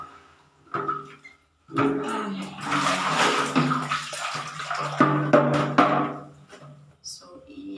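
Hand-washed clothes are squeezed and wrung out over water, giving wet sloshing and dripping squelches in irregular bursts, with a voice talking in between.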